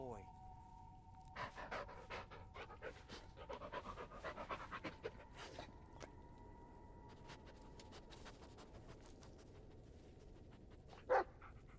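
A dog pants rapidly and fairly close in the Blair Witch video game, the quick breaths running over a faint steady tone, with scattered clicks and a louder burst near the end.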